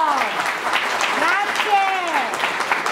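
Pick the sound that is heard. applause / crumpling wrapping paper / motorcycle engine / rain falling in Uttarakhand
applause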